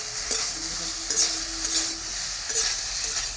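Potatoes hit a hot pan and sizzle in a steady, bright hiss, with a few soft stirring scrapes rising through it at intervals.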